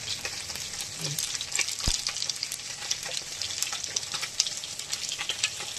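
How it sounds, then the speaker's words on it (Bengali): Panch phoron spices crackle in hot oil, a bright, busy sizzle full of small pops, with a sharp clack from a pan or spoon near the start and faint stirring underneath, close and with no speech. "আর এর মধ্যে দেবো একটু পাঁচফোড়ন অল্প।"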